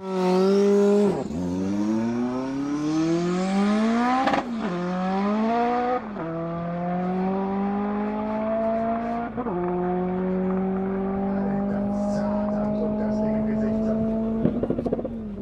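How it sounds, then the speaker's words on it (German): A tuned Opel Kadett E race car making over 1000 horsepower revs hard, its engine note climbing in several long sweeps that break off between gear changes. The sound stays loud and close throughout. "Kadett E, über 1000 PS."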